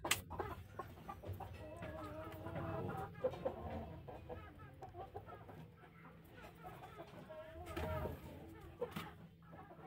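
Free-range chickens cluck and murmur throughout a coop, with overlapping calls near and far and occasional louder squawks against a low background rumble.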